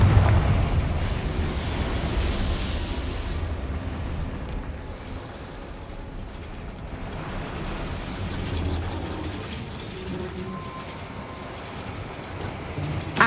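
A Confringo blasting spell explodes in Hogwarts Legacy on PS5, a loud, low rumbling blast that rolls on and slowly decays into a sustained, noisy roar.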